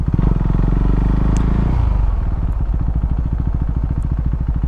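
A 2022 Husqvarna Svartpilen 401 motorcycle engine runs loud and close, its roar settling from a steady drone into a rhythmic, pulsing idle as the rider comes to a stop.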